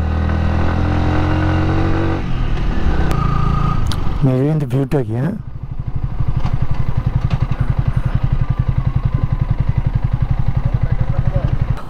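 A motorcycle rides a winding mountain road between Bandarban and Thanchi, its engine a throbbing, pulsing drone close by, with people talking briefly over it early on before the engine dominates.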